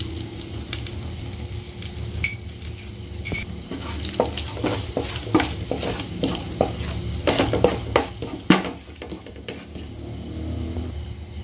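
Ground cumin and coriander sizzle and fry in hot ghee for an egg korma, with steady crackling under repeated stirring and scraping of a pan throughout, no talking.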